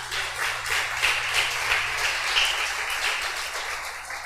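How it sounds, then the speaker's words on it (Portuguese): A church congregation applauds during a sermon, a steady, dense wash of many hands clapping together at a moderate distance, with little speech over it. "Aplauda Jesus"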